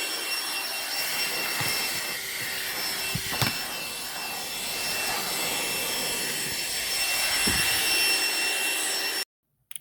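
AstroAI portable car vacuum cleaner, a lightweight corded unit plugged into a car's power socket, runs with a steady broadband whir and faint tonal whine at moderate loudness, with a few clicks before it cuts off near the end.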